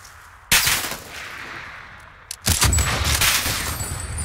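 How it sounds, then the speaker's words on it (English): Gunfire in Warzone gameplay aimed at the player: a sudden burst of rapid shots that fades into a lull, then a second, louder stretch of sustained automatic fire close by. "Oh gosh, I'm getting shot at."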